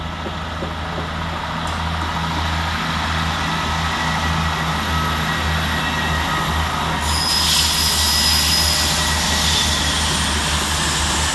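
A Class 158 passenger train departing Stockport railway station rumbles steadily nearby, growing louder near the end as a high-pitched squeal of wheels rises over the heavy engine drone.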